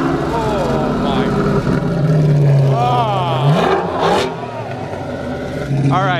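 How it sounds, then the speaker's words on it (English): A straight-piped V12 Lamborghini engine revs loudly and close, rising and falling in several sharp blips, with voices talking and exclaiming over it. "Something about a V12 straight pipe Lambo doesn't get better than that."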